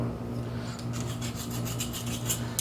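A metal file rasps over a stem piece to round off its hard, sharp edges, with short rhythmic rubbing strokes close by over a steady low hum and no talking.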